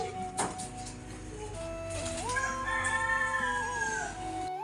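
A rooster and native hens squabble on a farm: a sharp squawk opens, followed by long, rising and wavering calls held close and moderately loud.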